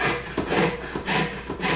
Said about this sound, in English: The idea of sawing is to keep your blade as straight as you can.